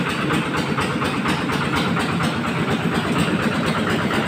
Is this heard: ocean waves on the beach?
no